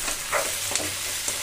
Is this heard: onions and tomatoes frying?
yes